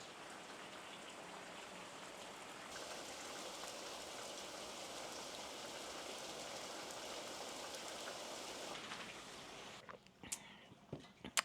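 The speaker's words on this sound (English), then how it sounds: "but it is pouring so hard outside right now." Heavy rain pours steadily outside and is heard through an open window as a dense, even hiss of drops for most of the time. It fades toward the end, leaving a few faint knocks and clicks.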